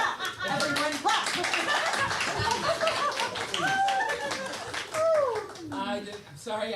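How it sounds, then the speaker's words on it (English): Children clap along with an audience, with bright taps scattered among high children's voices and occasional laughter, while kids keep talking over the clapping throughout. "Everyone clap."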